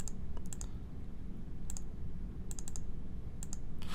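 Sharp mouse clicks on a computer while setting limits in KEYENCE CV-X machine vision software, arriving in small clusters of two or three over a steady low background hum.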